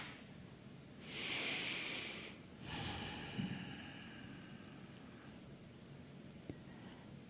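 Slow, audible breathing during a guided meditation: a long airy inhale followed by a softer exhale, close and alone over quiet room tone.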